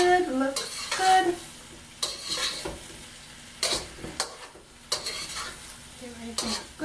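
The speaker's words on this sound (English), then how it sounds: "And give that a quick stir." Shrimp and eggplant are stirred in a pot over a low sizzle, with a spoon scraping and clanking against the pot in distinct bursts every second or so, close and fairly loud, with no voices.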